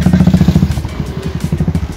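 A motorbike rides along a sandy path into Chandipur beach, its engine putting out a steady, rhythmic pulsing thrum that stays close and fairly loud throughout, with faint clatter over the top.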